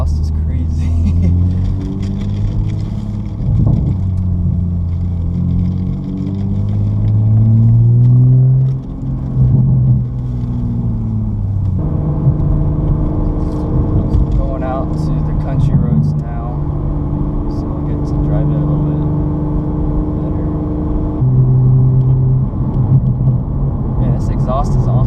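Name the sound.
2020 Toyota GR Supra exhaust while driving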